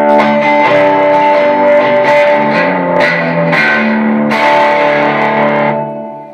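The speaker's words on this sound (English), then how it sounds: "I can just play the same series of cowboy chords, add a little bit of reverb, just stack the full amount reverb on it." Electric guitar strumming open cowboy chords through a Megatone Newcomb E10A amp with a Holier Grail reverb pedal set to full, several ringing chord changes with a lush reverb tail that swells and fades at the end.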